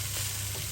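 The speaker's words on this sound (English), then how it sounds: "So I continued frying." Washed rice fries in hot cooking oil with thyme and curry nearby, a dense continuous sizzle that is steady and close throughout.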